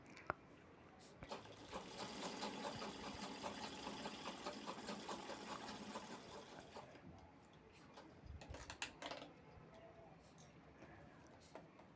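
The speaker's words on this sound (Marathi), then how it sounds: "त्यानंतर मी टॉप स्टिच घेते." Domestic sewing machine top stitching a fabric pouch, a quiet, fast rhythmic whirr running steadily for several seconds, then stopping amid soft fabric handling noises.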